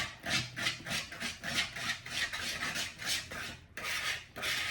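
Fast rhythmic scraping of a whisk mixing chocolate chip muffin batter in a bowl, steady and close, with a short pause before the beating resumes.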